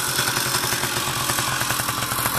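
A Riga 13 moped engine, not yet run in, idles close by with a steady, rapid clattering putter that holds an even rhythm throughout.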